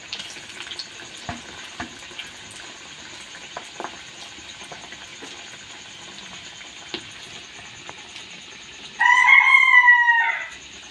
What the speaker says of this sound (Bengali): আমাদের মুরগিটার ভিডিও চলাকালীন ওকে আওয়াজ দিতেই হবে, রোজের ওর কাহিনী।